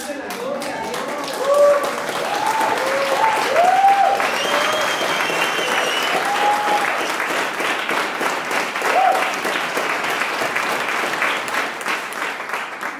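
A church congregation claps in steady, dense applause for about thirteen seconds, fairly close, with voices calling out and cheering on top of it.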